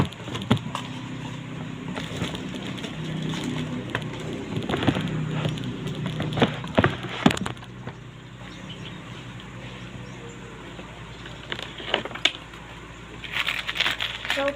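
Old Philippine peso coins clink and rattle as they are dropped and handled, scattered metallic taps and jingles coming in bursts over a quiet indoor background.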